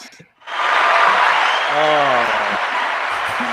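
A cheering sound effect plays from a soundboard button as a loud, steady burst of crowd applause and cheers lasting about three seconds. A voice speaks briefly over it partway through.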